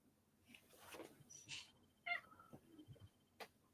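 A cat gives a few faint, short meows and chirps at close range, scattered between quiet pauses in a hushed room.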